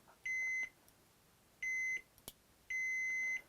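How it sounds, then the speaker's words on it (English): Three clear electronic beeps from a tester checking a Nintendo game, each about half a second long, spaced evenly apart in a quiet room with a faint click between them. "You should hear a beep every time though"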